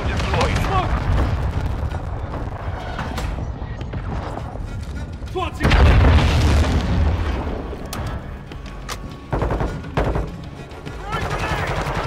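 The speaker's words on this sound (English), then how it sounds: "Friendly cruise missile deployed." Explosions and gunfire from Call of Duty as a cruise missile strikes, heavy booms and bursts of shots overlapping in a dense, loud battle soundscape with voices talking throughout.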